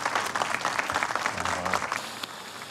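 Dense clapping from an audience welcoming an official to the podium, steady and fairly loud throughout, with a brief voice murmuring partway through.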